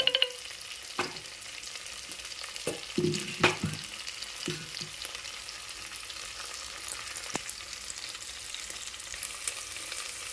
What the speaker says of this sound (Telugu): అల్లం వెల్లుల్లి పేస్ట్ బాగా వేగిన తర్వాత మనం తీసి పెట్టుకున్న కొబ్బరి పాలు పోసేద్దాం.